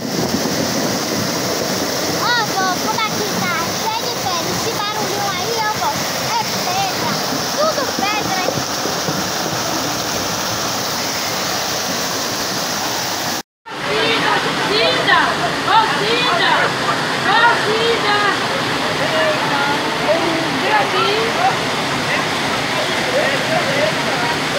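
A loud, steady roar of a rain-swollen river overflowing in floodwater fills the whole stretch, cut off briefly once, with a voice faintly speaking beneath it.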